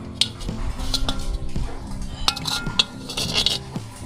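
A secondhand kawali frying pan is handled up close, giving sharp metallic clinks, knocks and scrapes of pots and cutlery at an uneven pace.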